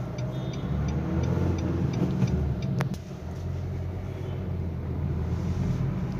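Nissan Sunny engine idling with a steady low hum and rumble, continuous and close, with a faint high whine above and a brief click partway through; no talk.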